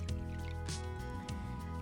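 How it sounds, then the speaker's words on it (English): Plain water is poured into a bowl, giving a quiet, brief splashing trickle. "take a bowl and add half a cup of water, just plain old water"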